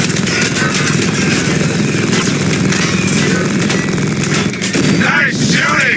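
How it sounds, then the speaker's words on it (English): Gunfire in the Batman Arkham Knight video game, a dense, loud stretch of rapid shots and bursts layered over a constant roar of engine and effects noise, with game voices faintly mixed in. "Nice shooting!"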